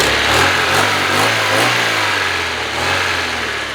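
An inexpensive Honda Civic EK hatchback engine, which had been idling roughly, revs up close and loud, a steady growl that swells and eases with the throttle.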